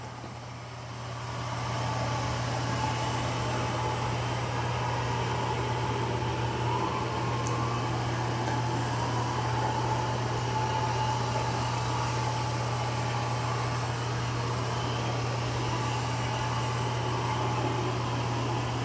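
A Eufy C28 robot vacuum mopping a floor in a crisscross pattern gives a steady, even motor hum with a strong low drone, holding constant and unbroken throughout with no talking.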